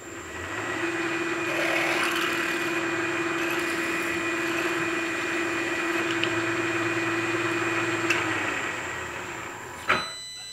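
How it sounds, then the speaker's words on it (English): A 1/4 inch drill bores out a stuck pin in 1 1/4 inch thick material, giving a steady whining drone that holds for about eight seconds before winding down. A short clunk follows. "Now I'll go in with a 1/4 inch drill."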